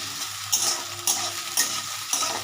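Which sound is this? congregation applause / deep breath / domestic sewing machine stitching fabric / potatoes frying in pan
potatoes frying in pan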